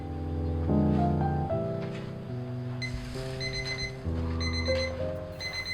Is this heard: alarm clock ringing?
yes